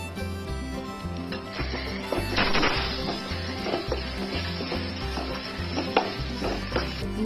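Ginger garlic paste sautés with onion, mint and coriander in a biryani pot, a steady close sizzle broken by repeated scraping stirs of a spoon against the pan, with no talking.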